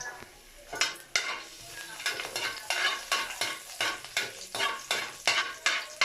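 Garlic sautéing in a pan for pork with sotanghon and sayote: a loud, close sizzle broken by a quick, regular rhythm of spatula scrapes and stirs running the whole time.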